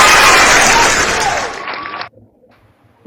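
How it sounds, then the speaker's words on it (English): A hand clap sound effect playing as recorded applause, a dense wash of many clapping hands that runs loud for about two seconds, then cuts off abruptly into near silence. "I wanted to give you a hand clap, but it didn't work right"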